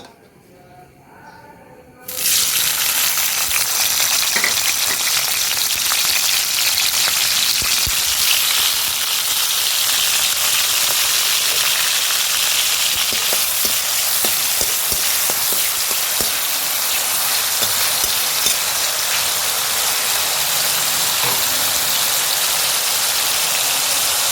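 Drumsticks (sajna) frying in a pan, a loud sudden sizzle as they hit the hot oil, settling into a dense, continuous crackling hiss that persists throughout, close and without talking.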